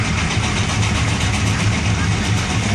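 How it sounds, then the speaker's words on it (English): An 18-horsepower Minneapolis Threshing Machine Company twin-cylinder steam traction engine runs at a vintage tractor parade, a steady mid-low mechanical chugging and hiss heard close and continuous, with a voice talking over it. "Threshing Machine Company steam traction engine."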